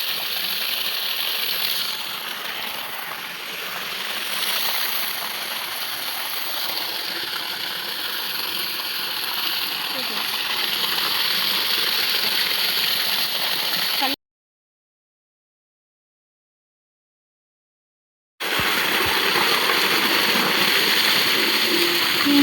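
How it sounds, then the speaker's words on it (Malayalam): A motor pump draws water out of a freshly washed well, giving a continuous close mechanical whir mixed with rushing, splashing water. The sound cuts out completely for several seconds and then resumes. "കിണറൊക്കെ നന്നായി കഴുകിയിട്ട് മോട്ടർ അടിച്ച് കളയാൻ പോവാണ് നമ്മളിനി വെള്ളം കേട്ടോ"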